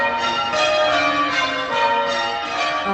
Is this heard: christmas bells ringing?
yes